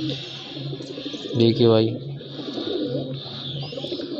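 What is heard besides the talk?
pigeon cooing on a rooftop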